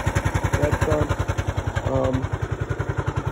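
A 1990 John Deere RX75 riding mower's 9-horsepower Kawasaki single-cylinder engine idles on a cold start with an exhaust muffler leak, giving a steady, close, rapid thumping pulse with a faint mechanical clatter throughout.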